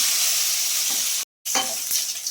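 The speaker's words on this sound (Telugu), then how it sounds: "కరివేపాకు వేసేసి బాగా వేసేసుకోవాలి." Curry leaves dropped into hot oil with garlic and onion for a tempering, giving a loud, close, steady sizzle with a brief dropout midway and a few light stirring clinks.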